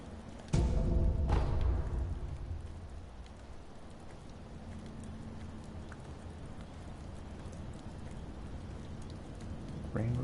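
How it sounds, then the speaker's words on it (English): Steady rain falls across an outdoor area in the video game Sekiro, a constant soft hiss that carries on beneath a couple of louder thuds near the start. "Rain looks really cool."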